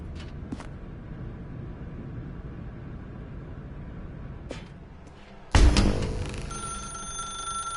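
In the video game The Stanley Parable, a quiet room hum is broken by a sudden thump, and a telephone bell then starts ringing with a bright, sustained electronic tone.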